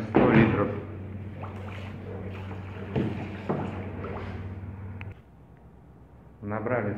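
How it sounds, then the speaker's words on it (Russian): Cold water pouring into a bathtub during a temperature test, a steady rushing gush that cuts off partway, under intermittent talk, then a brief renewed splash. "Холодной воды наливаем 100 литров."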